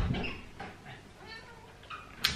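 A house cat meows indoors to be let in, several short cries in a row, close and fairly loud, with a faint click near the end.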